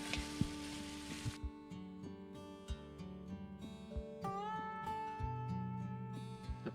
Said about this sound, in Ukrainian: і смажується наше м'ясо. Не збавляємо вогонь, смажемо до готовності.